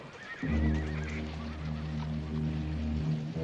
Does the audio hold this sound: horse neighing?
yes